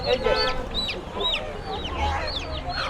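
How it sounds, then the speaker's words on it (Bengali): Chicks and chickens at a crowded poultry market in Kalampur, with repeated high chirps and cheeping calls alongside clucking, close and busy, while people talk in the background. "আর মুরগির বাচ্চা"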